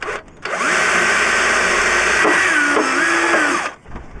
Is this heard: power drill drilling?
yes